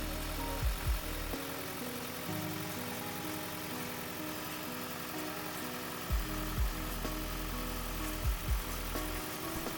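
A third-generation Toyota Prius with a 1.8L replacement engine idles steadily with a low, continuous rumble, broken by a few brief louder thumps and knocks along the way.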